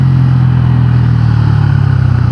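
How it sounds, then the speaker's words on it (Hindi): A Bajaj Pulsar N160 motorcycle engine drones steadily and loudly while riding in 4th gear at speed, a close, continuous hum with no voices. "4th गियर में ये bike around 110 kilometre per hour की स्पीड अचीव कर लेती है।"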